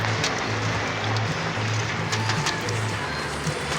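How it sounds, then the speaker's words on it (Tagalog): Heavy rain pours steadily and continuously at a roadside food stall, a dense hiss with scattered close drip taps and a faint low hum underneath, with no voices. "Lakas ng ulan."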